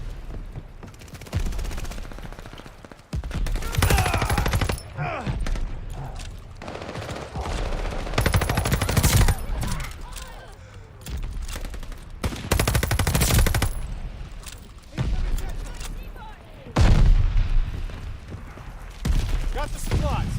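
The Cooper Carbine assault rifle in the Call of Duty Vanguard video game fires in repeated loud bursts of rapid automatic fire, separated by short pauses, with a voice talking between the bursts.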